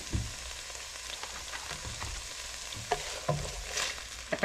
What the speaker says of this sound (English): to this oil, we're going to add the onion.